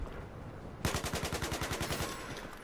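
Automatic gunfire in Battlefield 4, a sustained rapid burst of roughly fifteen evenly spaced shots, moderately distant and fairly quiet.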